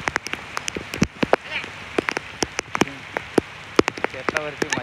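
Rain falling on a farm field, with a dense steady patter and many sharp, close drops striking surfaces in an irregular rhythm, loud and near.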